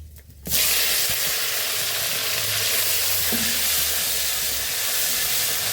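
Chopped tomato dropped into hot oil already seasoned with cloves, cumin and bay leaf, bursting into a loud, steady sizzle that stays close and constant with no voices over it.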